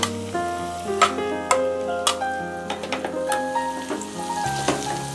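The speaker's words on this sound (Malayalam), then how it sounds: "അപ്പോൾ നമുക്ക് വറ്റൽമുളകും കറിവേപ്പിൻ്റെ ഇലയും ഒന്ന് അതിലേക്ക് ഇട്ട് കൊടുക്കാം." Dried red chillies and curry leaves sizzle in hot oil for a papaya pickle, giving a steady crackling fry under repeated sharp metallic ticks and taps of a spoon against the pan.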